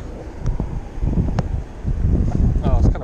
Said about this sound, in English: Oh, it's kind of windy.